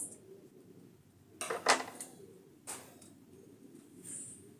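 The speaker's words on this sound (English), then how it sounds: "So guys, I'll cut my spring onions." Spring onions are chopped on a cutting board, a few distinct knife knocks and clacks separated by quiet pauses, close and fairly soft, with no talking.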